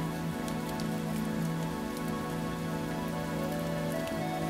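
Steady rainfall patters continuously on a surface, an even, close hiss of drops with a faint underlying hum, no voices.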